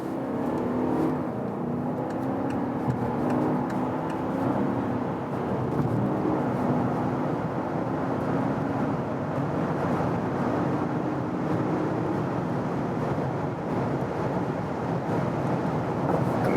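A VW Touareg V8 R-Line SUV builds speed on a German road, its engine a steady, loud drone mixed with road and wind roar that holds without pause.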